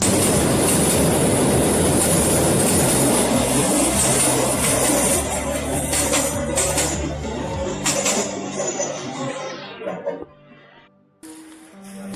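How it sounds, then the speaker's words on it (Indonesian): The Sibinuang passenger train roars past at close range over the Muaro Penjalinan railway bridge, wheels rumbling and clattering loudly for several seconds before the noise trails off to a faint hum. "Ini detik-detik kereta api Sibinuang melewati jembatan ini."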